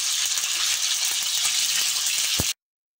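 Eggs fry in a pan for an egg adobo with vegetables, a steady, close, bright sizzle with small pops and one soft clunk just before the sound cuts off.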